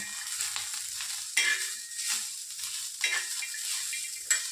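Green chillies, garlic and coriander roast in a hot pan, a bright crackling sizzle with repeated stirring scrapes and spatula knocks, close and fairly loud.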